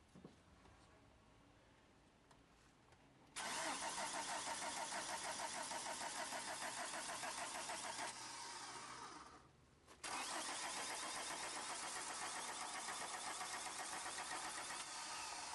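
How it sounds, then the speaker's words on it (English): A car engine kicks in loudly and holds a strong, steady drone as the gas pedal is pressed, briefly dropping off before surging back up to full volume. "maybe you can sit in the car for a second and step on the gas"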